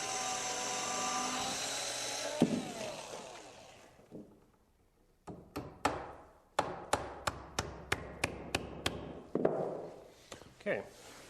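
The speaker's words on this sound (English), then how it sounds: "I'm using a nail here for a drill bit, which works really well" A whirring drill fitted with a nail as its bit runs, stops, then a rapid series of sharp, regular taps and knocks sounds close by during stair building, with brief pauses between bursts.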